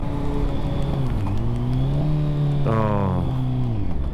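A Kawasaki Z900 with an SC Project exhaust and no dB killer revs loudly and close by, its engine note climbing and falling through several throttle blips, with a brief exclamation over it.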